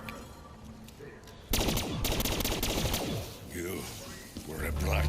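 The HVK rifle fires in rapid bursts in the Der Eisendrache zombies game, starting with a quieter stretch and then sharp, loud volleys with brief pauses, while other game sounds mix in underneath.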